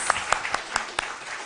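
Several scattered, sharp hand claps from a small quiz-show audience ring out in quick succession, about five distinct claps spread loosely over a second, fairly quiet against a soft room background.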